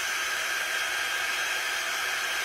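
A hair dryer dries chalk paste on a craft box frame, giving a steady, close, airy blowing hiss with no break for the whole stretch.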